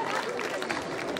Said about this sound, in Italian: Sestiere Campu, un applauso per il Campu, colori bianco e verde.